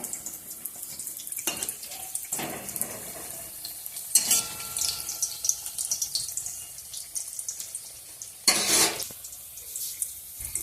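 Snacks deep frying in hot oil for a tea-time treat, with a steady soft sizzle and bursts of louder bubbling and clinking around the pan, no talk.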